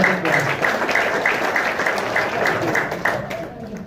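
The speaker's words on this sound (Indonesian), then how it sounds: "tepuk tangan dong buat" Crowd applause at an Indonesian sales training seminar, steady dense clapping from a room of people lasting throughout without a break.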